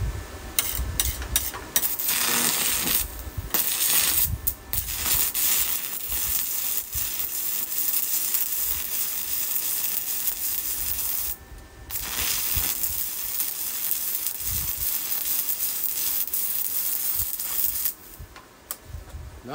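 Stick welding arc from a Tooliom 200 amp dual-voltage stick/TIG welder set at 140 amps, a continuous loud crackling and sputtering buzz that runs nearly nonstop with a few brief breaks, no talking.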